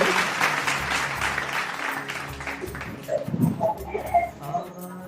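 A studio audience at a Ramzan quiz broadcast by a blind community claps steadily for the show's sponsor. The sustained, dense applause fades out and gives way to faint scattered sounds.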